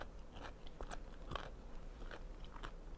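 Crisp raw vegetables and bitter gourd are crunched and chewed up close, with repeated sharp bites and crackling crunches in an irregular rhythm, fairly quiet overall with no talking.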